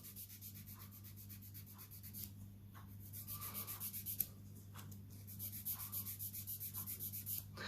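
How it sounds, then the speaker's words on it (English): Nail file rasping an artificial nail tip down along the nail's side wall, in quick rhythmic back-and-forth strokes that come in bursts with brief pauses, close and fairly quiet over a steady low hum. "So I'm just filing the tip away."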